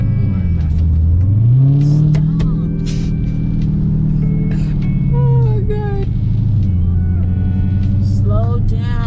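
A 2021 Dodge Hellcat revs and accelerates hard, its deep engine roar rising in pitch, dropping back, then surging again, loud and close with a few voices and exclamations on top.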